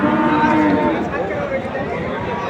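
A large cow at a cattle market in Joypurhat gives a long, loud low moo up close, with market bustle and voices behind it.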